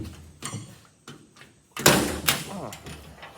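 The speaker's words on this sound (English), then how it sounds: "Oh, stiff old door." A stiff old door on a Cat 963 track loader being forced open, with several scraping, creaking pulls and a louder clunk midway, close and in a quiet setting.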